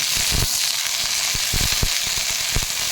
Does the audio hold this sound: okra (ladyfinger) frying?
yes